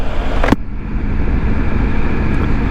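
A new motorcycle's engine drones steadily and loudly at close range while riding, with a brief sharp burst near the start as a gear shifts through the quick shifter.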